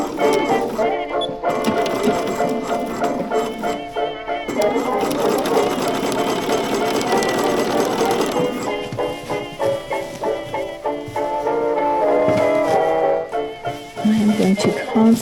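A sewing machine runs in long, steady bursts while stitching a seam on a wool cocoon coat, loud and close, with short pauses and light clicks between runs.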